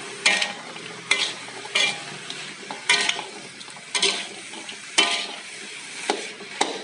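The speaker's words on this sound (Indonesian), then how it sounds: "kita masukkan potongan kentang dan terongnya kita aduk" Potato and eggplant pieces frying in a pan, stirred in repeated bursts roughly once a second that rise over a continuous background sizzle, with utensil clatter against the pan.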